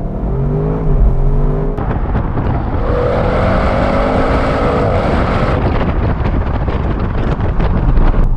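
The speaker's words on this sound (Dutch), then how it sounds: "Rechts vol gas, zegt hij launch control geactiveerd." An Audi RS6 Avant 2020 launching hard under launch control, a loud, steady engine roar with rising tones and heavy wind rush that carries on for several seconds.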